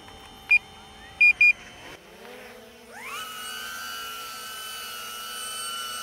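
A DJI Avata FPV drone beeps a few times, then its propellers spin up into a rising whine and settle into a steady, loud buzzing hum close by at takeoff.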